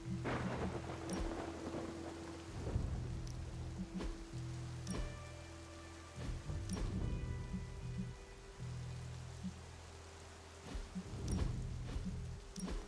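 Steady rain with repeated thunder rumbles and cracks in the Marvel's Midnight Suns video game, layered over low, looping ambient game tones that continue throughout.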